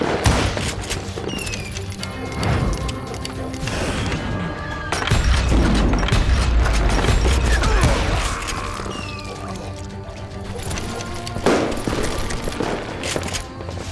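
Gunfire in the Western shooter Call of Juarez Gunslinger, dense overlapping shots and impacts over a busy game mix, loud and continuous, with a brief voice under the action.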